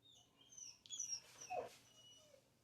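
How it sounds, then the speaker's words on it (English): Puppy whining indoors, a few faint high-pitched whimpers and yips in short bursts over quiet background. "my puppy just started whining"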